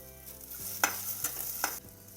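Hyacinth beans dry-roasting in a pan, faint steady sizzle with a few scraping stir strokes, close and without talk.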